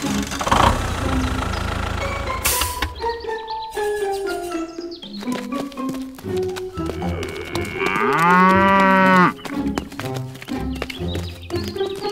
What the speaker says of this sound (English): two cows refused to cross the road, what should we do?